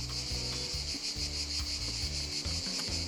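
Honey bees buzz around an open beehive while a beekeeper lifts heavy, full frames, a dense continuous drone that stays loud and close throughout, with no talking.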